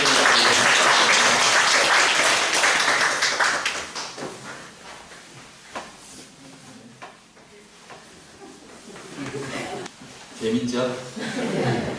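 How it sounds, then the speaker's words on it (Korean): A congregation at an early-morning church service bursts into loud applause that fades after a few seconds into scattered claps, chuckles and murmuring, with light clapping and laughter rising again near the end. "박수 한번 주세요."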